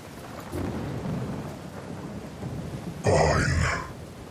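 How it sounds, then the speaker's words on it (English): Thunderstorm ambience from the Heroes of Thylea game: rain hisses continuously while low thunder rumbles, building to a louder, closer crack near the end before easing off. "The storm continues to swirl overhead."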